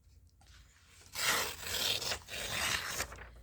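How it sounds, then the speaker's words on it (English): White paper strips being torn off in a craft setting, giving a few seconds of dry ripping and rasping, loud and close, in two or three sustained pulls with brief pauses, no talking. "just going to tear off those white strips to begin with"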